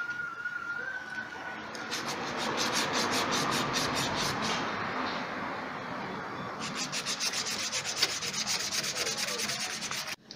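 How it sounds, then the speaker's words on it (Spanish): Sandpaper rubbing rust off a metal part of an orange juicer, a steady close scraping that runs continuously with brief rhythmic strokes and a short pause partway through. "ahora le voy a dar una lijadita"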